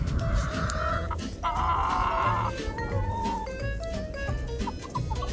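Several chickens cluck in short, repeated bursts close by, their calls overlapping against a low background rumble.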